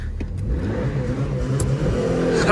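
A Mitsubishi 4x4 engine revs close by as the vehicle sets off on a short drive, a continuous rising roar with a slight rumble throughout.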